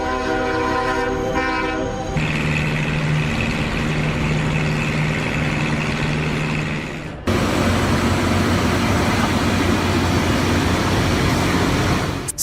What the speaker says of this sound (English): a special firefighting train helped battle flames in California's forests